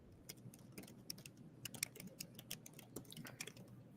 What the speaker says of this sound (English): Just so you know, Luke, we can hear your typing.